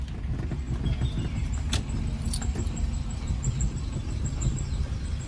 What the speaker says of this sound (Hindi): ये जो गाड़ी सेक कर रही है ना झक झक झक झक, वो क्यों कर रही है